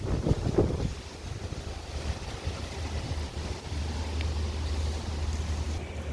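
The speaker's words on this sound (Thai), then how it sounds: "ลมกำลังมานะคะดูลมนะคะลมนะ" Steady wind blowing across the microphone with a low rumbling roar, a few brief gusty bumps early on, no voices.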